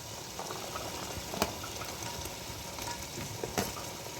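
Mutton with potato, tomato, onion, peas and carrot frying in a pan for stew, giving a quiet, steady sizzle with a few sharp clicks from the pan.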